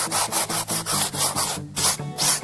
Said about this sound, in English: just go in there with a sanding block sander and lightly